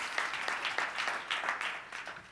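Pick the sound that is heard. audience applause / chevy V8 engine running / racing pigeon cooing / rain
audience applause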